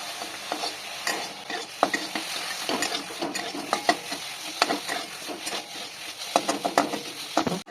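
Mustard flowers fry over a high gas flame, crackling and sizzling steadily while a spatula scrapes and clatters against the pan in busy irregular strokes, close up with no talking.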